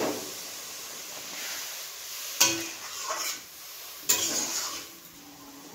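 Paneer masala is stirred in a pan, a soft steady sizzle and hiss broken by two sharper scrapes of the spoon against the pan.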